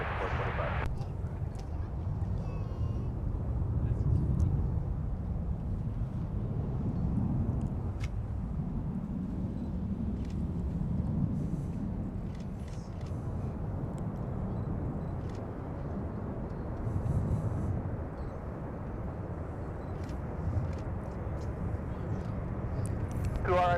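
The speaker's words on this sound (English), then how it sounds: "And I believe that's Delta 9 landing" Delta airliner landing at Minneapolis–Saint Paul airport, a distant low jet rumble that swells and fades over time, with a person talking and radio chatter heard over it.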